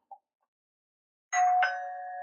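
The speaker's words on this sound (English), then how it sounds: "I'm just going to use a YouTube sound effect video as our doorbell" A doorbell sound effect played back from a YouTube clip gives a clear two-tone ding-dong chime, loud and close after a short silence, with the second tone ringing out.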